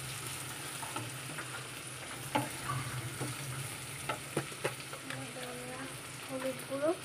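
Food fries quietly in a pan while being gently stirred, a faint steady sizzle with irregular scrapes and taps, and a voice murmuring faintly in the background.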